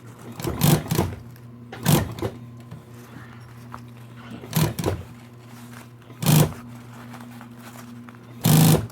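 A sewing machine stitches fabric around a curve in five short whirring bursts, each lasting about half a second. A faint motor hum fills the quiet pauses between the bursts.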